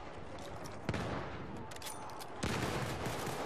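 Crossfire in the video game Battlefield 1: a continuous chatter of rifle and machine-gun fire with two sharper, louder shots standing out, heard at moderate distance without speech.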